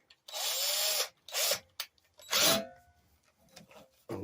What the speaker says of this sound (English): So I'm going to use the drill.